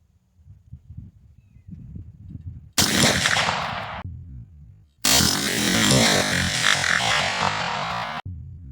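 Two loud, close rifle shots from a 6.5 Grendel firing cast Lee 140-grain RF bullets over BLC2 powder at a 50-yard range, each a sharp crack followed by a long ringing echo, the second blast sustained for about three seconds.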